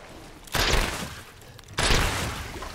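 Two loud pistol shots in Resident Evil Village, each a sharp blast with a long ringing decay, spaced a little over a second apart against quiet game ambience.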